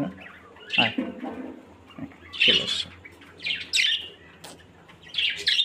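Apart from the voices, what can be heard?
lovebird chirping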